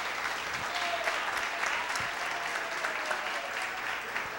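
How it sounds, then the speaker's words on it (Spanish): Audience applause for Dr. Javier Andrade Díaz after his public service talk, steady clapping from a room full of people sustained at even volume throughout, with no voices standing out. "se merece un aplauso el compañero Javier Andrade"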